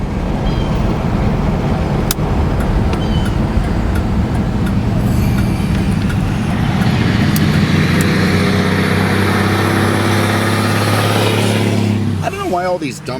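Heavy traffic roars past on a road as dump trucks speed by, a loud continuous engine and tire drone with a long rising and falling pass that fades near the end, heard close and strong.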